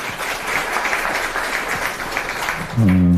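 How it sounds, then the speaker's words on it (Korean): Audience applause at a youth meeting with a political party leader in Busan, a sustained crowd clapping at moderate volume that ends as a voice comes in near the close. "박수 부탁드리겠습니다"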